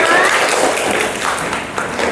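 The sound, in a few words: classroom applause for the students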